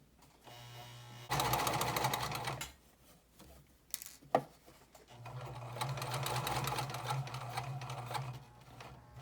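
A sewing machine runs in two bursts while stitching a pocket corner, a steady close whirring and needle clatter, with a pause between them for turning the fabric and a couple of short clicks before stitching resumes.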